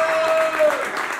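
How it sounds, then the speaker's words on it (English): Audience at a Detroit drag-queen history event claps for the panelists, a brief burst of crowd applause with a voice talking over it and a faint tone running underneath. "Let's give them a round of applause one more time."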